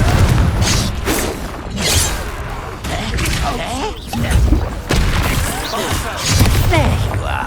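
A Confringo fire spell bursts in Hogwarts Legacy, a booming blast amid layered whooshes, thuds and crashes of combat, with loud effects repeating through the stretch over game music and voices.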